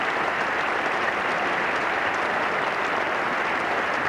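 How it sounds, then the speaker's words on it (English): Spectators and teammates at Lord's applaud Allan Border's half century in a 1985 England v Australia Test, a sustained, even roar of clapping from a large crowd that fills the whole stretch. "the applause for successful players by teammates, and especially for the captain"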